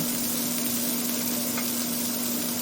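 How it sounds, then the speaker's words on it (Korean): Pork belly sizzles steadily in a hot pan, a constant crackling hiss with a faint background hum, no voices. "삼겹살 넣어주고 지글지글 구워주세요"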